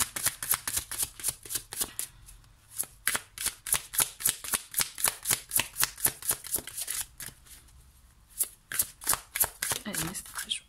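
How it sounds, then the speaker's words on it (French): Tarot cards are shuffled in a long run of quick, crisp riffling flicks, close and regular, with brief pauses and a faint voice speaking near the end. "je vais prendre deux cartes pour chaque pierre"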